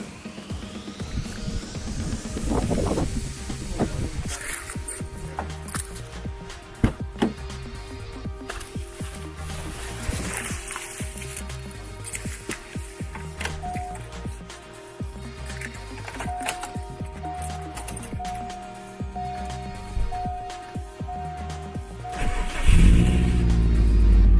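A car engine, just repaired for a misfire, cranks and catches, then settles into a steady, rumbling idle with no misses that runs throughout, with a slight rev near the end.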